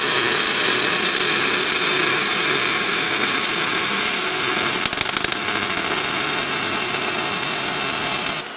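Welding an exhaust onto a 1955 Chevy produces a steady, dense crackling sizzle that stays loud and close throughout, with a brief rougher burst near the middle and no talking.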